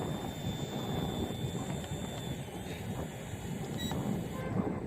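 Steady whirring hum of the HJ Toys Q-Fly W606-6 toy drone's motors as it descends slowly outdoors to land, a constant faint buzz with a thin high whine throughout.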